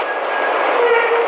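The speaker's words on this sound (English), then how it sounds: "The tram operator slowed me to a stop right above the victim." An aerial tram car slowing to a stop above a cliff during a rescue, heard as a brief, loud, steady mechanical rumble and rushing noise.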